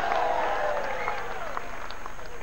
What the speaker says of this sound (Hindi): तालियां कम क्यों बजी?